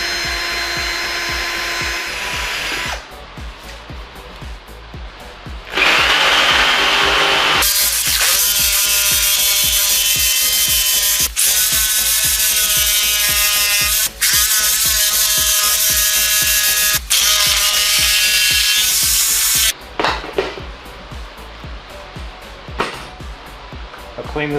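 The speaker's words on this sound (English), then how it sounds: "Time to break out the jigsaw and power drill." Loud, steady whine of a jigsaw and power drill with a buzzing motor, cutting into a book in long stretches broken by short pauses and a few quieter gaps.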